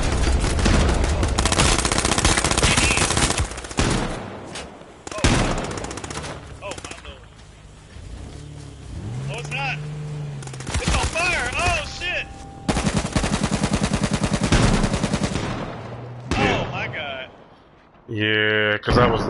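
Rapid automatic gunfire crackles in long, loud bursts in a PS4 shooter video game, with single shots and short pauses between volleys and a player's voice coming through now and then.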